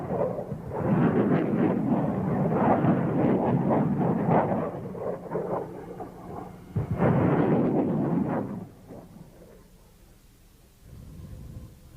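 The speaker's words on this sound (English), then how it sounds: "As we see in this test footage, the small submunitions blanket a wide area" MLRS rocket submunitions bursting across a wide area in military test footage, producing a dense, rumbling roar of overlapping blasts that swells twice and then fades, heavy and continuous without distinct single bangs.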